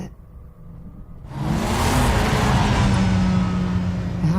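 A car in a Batman video game starts off quietly, then the engine swells into a steady, loud whirring drive with a low rumble that holds to the end.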